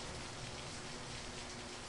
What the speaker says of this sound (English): Oh, what a rainy day.